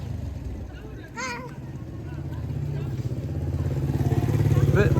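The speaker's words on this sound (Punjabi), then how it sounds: "ਮੋਟਰਸਾਈਕਲ ਆ ਗਿਆ" A motorcycle engine grows steadily louder with a throbbing rumble as it approaches, while a few people talk nearby.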